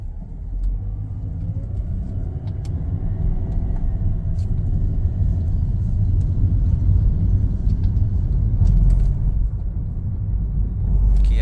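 A Mercedes-Benz W204 with a 7-speed automatic gearbox drives at a steady pace, a low engine hum and road rumble heard from inside the cabin, with light clicks and knocks on top and no talking.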